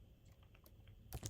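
Rapid clicking keystrokes on a computer keyboard while setting up a Go project, with steady close taps and a louder flurry of keys at the end.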